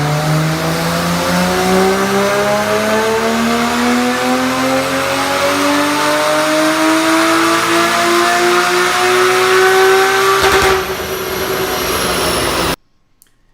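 A Porsche Cayman 981 S engine on a dyno pulls steadily up through its rev range, loud and close, its rising whine climbing for about ten seconds before cutting off and dropping into a short idle, then silence.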